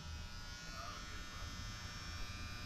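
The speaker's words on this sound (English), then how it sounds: "Some lights making a buzzing sound overhead." Overhead lights hum with a low, steady electrical buzz aboard the World War II submarine USS Cavalla (SS-244), faint and continuous in the quiet interior.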